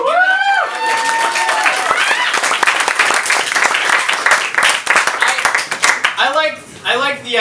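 Enthusiastic applause with whoops from a poetry reading audience greeting a poet, loud dense clapping with voices talking and cheering over it at the start and end.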